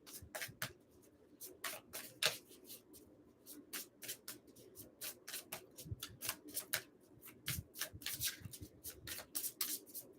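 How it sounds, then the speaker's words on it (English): Tarot cards being shuffled by hand in a steady run of crisp riffling and rubbing bursts, close and moderately loud, with no talking. "Let me get a good shuffle."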